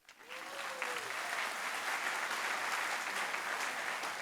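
Members of a church congregation clap together, rising quickly into a dense, steady wash of applause that holds for several seconds, with a short voice fragment near the start.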